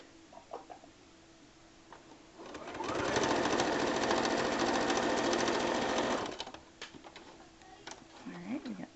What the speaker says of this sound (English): process of actually sewing your pre-quilted border and squares together